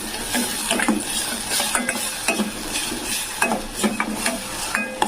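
Spiced masala frying in a pan for a udad dal amti with green paste, a steady sizzle under repeated close scrapes and clinks of a stirring spoon against the metal.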